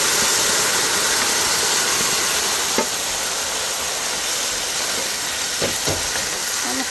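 Nopales hitting hot oil with fried onion give a steady, loud sizzle and hiss that fills the pan, with a few faint clicks and stirring sounds on top.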